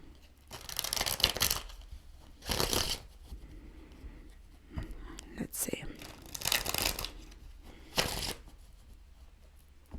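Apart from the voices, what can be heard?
shuffling tarot cards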